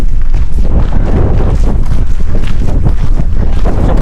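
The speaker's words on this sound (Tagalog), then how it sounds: "Kasi medyo malakas-lakas yung hangin dito." Strong wind gusts near the coast in Nuuk, Greenland, buffeting the microphone with a loud, continuous roaring rumble that has no pauses or talk.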